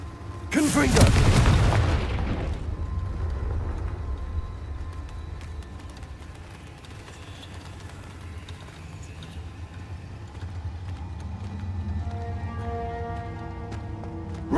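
A Confringo blasting spell goes off in Hogwarts Legacy as a single loud, close boom that quickly fades into quiet ambient game sounds and faint tones.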